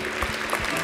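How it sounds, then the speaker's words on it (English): Congregation applauding during a church service, a short burst of steady crowd clapping at moderate level. "Give God just a round of applause"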